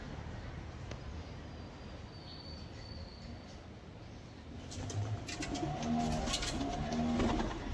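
Pigeons coo steadily outdoors on a wet monsoon morning after rain, and a burst of fluttering wingbeats rises toward the end as birds take off nearby.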